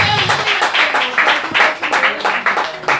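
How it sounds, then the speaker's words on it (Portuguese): A church congregation claps in praise during a consecration service, a dense, steady run of hand claps with a brisk, uneven rhythm, close and fairly loud throughout. "Pode louvar o Senhor Jesus com as palmas e dar glória"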